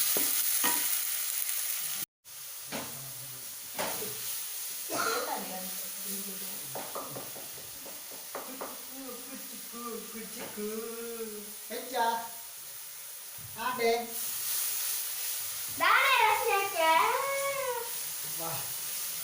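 Two cut tomatoes cook in a pan with a steady sizzle and occasional stirring scrapes, while a person talks over the frying for most of the stretch.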